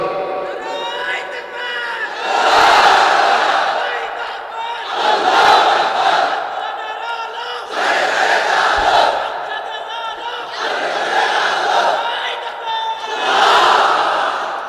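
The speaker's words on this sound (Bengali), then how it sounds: "তাকবীর পড়েন তো দেখি, আল্লাহর নামে পড়েন, লিল্লাহি তাকবীর।" A crowd at an Islamic sermon chants the takbir in loud, unison bursts, about five swelling shouts repeating every few seconds with short pauses between them.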